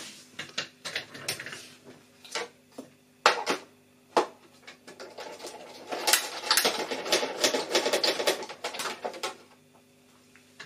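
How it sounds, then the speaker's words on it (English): A die cutting machine presses two small paper strips for Stampin' Up! home decor crafts, giving a run of sharp clicks and rattling knocks that grows into a busy mechanical clatter, fairly close, with no talking. "I'll put this through my die cutting machine."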